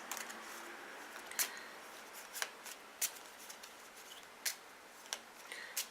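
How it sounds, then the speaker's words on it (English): A deck of cards is shuffled by hand, giving soft papery rustling broken by several sharp riffling snaps at irregular intervals, close and fairly quiet, with no talking. "So let me just shuffle these cards."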